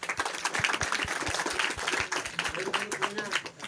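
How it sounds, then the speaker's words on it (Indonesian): Audience at a Christian gathering breaking into applause, a fairly soft spread of clapping with some sharp individual claps and murmuring voices underneath. "Oke, kita berikan tepuk tangan."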